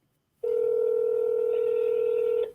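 A telephone call goes unanswered as a single steady dial tone sounds for about two seconds, loud and clear, then cuts off, with no speech over it.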